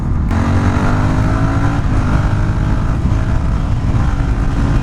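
A Monnier XRF 450 supermoto motorcycle being ridden: a loud, close, steady engine drone whose pitch climbs slowly as it pulls, continuous throughout with no pauses.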